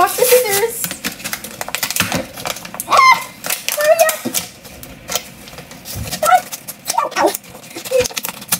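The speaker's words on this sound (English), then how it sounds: "I need to unbox the scissors" Packaging is torn open and handled to free a new pair of scissors, heard as close, irregular crinkling, tapping and clicking bursts with brief quiet gaps.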